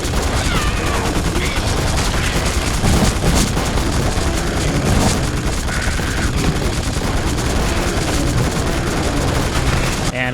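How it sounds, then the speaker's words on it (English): Sustained, relentless enemy gunfire in The Suffering, a dense, unbroken barrage of shots and blasts that stays loud for the whole stretch with no pauses. "they do that spam attack while I'm on here, where they just keep shooting you non-stop"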